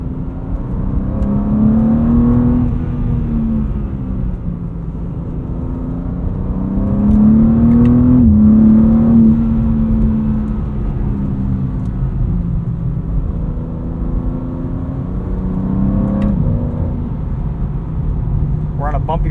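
A 2026 BMW M2 CS with an 8-speed automatic drives on a road, its engine droning and rising and falling as it shifts, heard from inside the cabin with someone talking over it.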